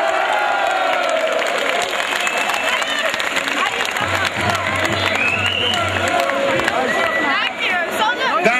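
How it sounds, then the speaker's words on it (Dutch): Big stadium crowd in Enschede at an FC Twente event applauding and cheering the Trommelaars supporters group, a dense, loud, continuous wash of clapping and shouts with a low drum-like hum joining midway. "Een fantastisch applaus voor de Trommelaars!"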